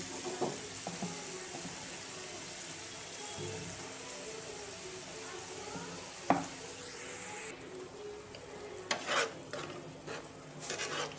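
Four pieces of fish fry in a pan with freshly ground ginger and garlic, giving a steady close sizzle with occasional clinks of a utensil against the pan.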